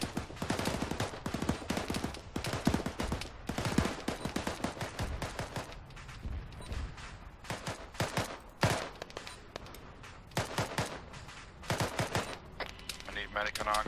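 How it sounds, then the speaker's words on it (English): Infantry gunfire in the Arma 3 military video game, with dense volleys of rifle and machine-gun shots crackling in rapid bursts and continuing throughout. "lots of infantry shooting at the"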